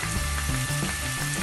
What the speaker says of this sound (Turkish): Soğanımız hafiften kavrulmaya başladı.